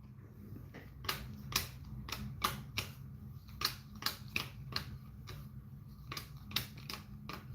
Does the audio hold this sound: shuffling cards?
yes